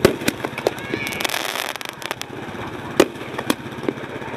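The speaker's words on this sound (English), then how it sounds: "Fireworks still going on." New Year fireworks burst over Unalakleet, Alaska, at midnight, with sharp cracks and bangs popping irregularly, some near and loud, others distant, over a low rumbling background of idling vehicles.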